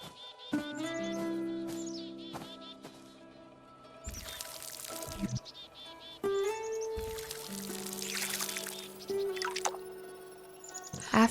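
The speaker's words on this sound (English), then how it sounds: "After that, I watered the tomatoes as well." Tomatoes are watered in the gardening game Fractured Blooms: dripping and pouring splashes come in bursts over sustained musical tones and light bird chirps.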